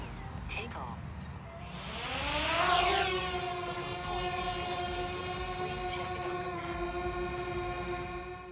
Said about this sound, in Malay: Sekarang kita nak tengok pula bunyi daripada DJI Mavic Mini.